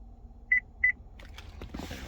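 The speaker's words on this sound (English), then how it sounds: "We'll get a beep." Two short, clear electronic beeps from a car while a remote key is being programmed with the ignition on, evenly spaced and fairly loud, followed by faint handling noises.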